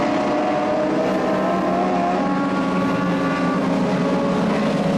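1200cc miniature modified dirt cars race around the dirt oval at Ohsweken Speedway, engines roaring continuously and loudly with a steady rising-and-falling drone as the pack circles the track.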